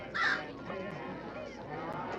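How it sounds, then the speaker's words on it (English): Several crows caw in a game set inside an indoor club, a harsh call early on followed by fainter cawing over a steady murmuring background. "Crows are having a field day."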